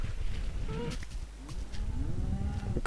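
Cows mooing in the Minecraft video game, several drawn-out moos in a row against a constant low game ambience, with no speech.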